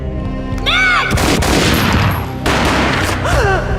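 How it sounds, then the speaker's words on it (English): Gunfire in the Max Payne video game, dense booming shots and sustained rattling bursts with descending whooshing swoops, loud and close throughout. "A gunshot boomed and she fell down in slow motion."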